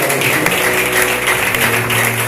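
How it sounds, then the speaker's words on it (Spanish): A church congregation applauds during an evening worship service, a steady wash of clapping that carries through with organ or keyboard tones sustained underneath. "regálale un aplauso a ese Cristo maravilloso"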